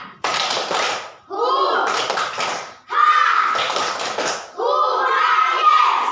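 A classroom of children does the 'tepuk semangat' rhythmic clapping chant: bursts of clapping in patterned rhythm mixed with loud shouted young voices, repeated in four close, energetic rounds.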